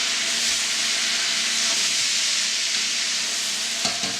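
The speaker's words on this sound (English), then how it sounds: "You can hear that noise, it's still really hard frying." Minced meat for a bolognaise sauce fries hard in a pan, a steady loud sizzle and hiss with light scraping from a stir and a brief knock near the end.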